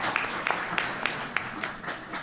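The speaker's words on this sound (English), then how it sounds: "A round of applause for him, for the entertainment" Scattered applause from the audience at a town council meeting, a brief patter of individual claps at moderate distance with no talk over it.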